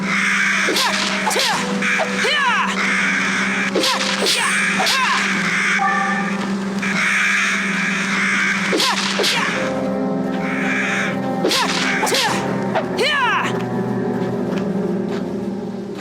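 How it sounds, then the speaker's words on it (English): Crows in the video game Fragile Dreams: Farewell Ruins of the Moon caw repeatedly in loud, harsh bursts over a steady low hum, the calls coming in clusters close by. "I swear those birds."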